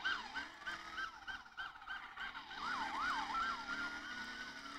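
Wailing sirens of several police cars in the Emergency Response video game rise and fall continuously, fairly quiet and layered against a steady engine drone.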